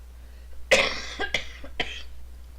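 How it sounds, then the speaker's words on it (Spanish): Three sharp coughs, the first strongest, then two more spaced about half a second apart, close and loud against a low hum. "Perdón, tengo mucha tos."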